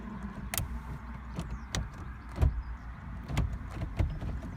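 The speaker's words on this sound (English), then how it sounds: "Snappy gear change, crisp gear change, that's what you're looking for" Gearbox of a Honda Civic Type R EP3 being shifted by hand, a series of sharp, crisp mechanical clicks and clunks spaced irregularly over a few seconds, close up in a quiet car interior, no talk.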